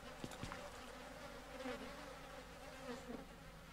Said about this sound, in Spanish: Abejas y mosca.